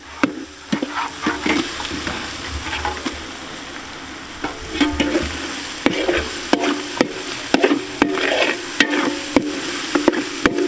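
Pork pieces frying in biryani masala, a loud close sizzle with repeated scraping and clanking of a spoon stirring against the pot, and no voices.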